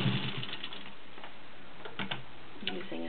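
A vintage Singer 15-91 sewing machine with a straight stitch and size 16 needle runs through six layers of Levi's denim, giving a quiet, steady mechanical clatter with a few sharper knocks as it reverses and goes forward.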